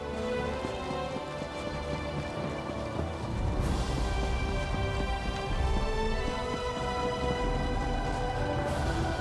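Mount running in Elder Scrolls Online, a steady patter of hoofbeats with rain-like ambience and a soft music bed, continuous and fairly loud throughout with a brighter swell midway.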